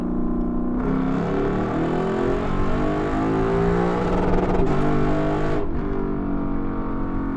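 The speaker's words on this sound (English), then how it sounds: "I love the way the car sounds when it bounces off the limiter like that" A Lexus LC500 coupe's V8 engine revs hard and loud, bouncing off the rev limiter in a sustained, stuttering roar close by, then drops away.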